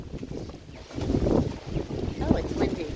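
Wind gusts buffet the microphone outdoors, a rumbling low roar that swells and eases over a few seconds beside the self-watering planter buckets.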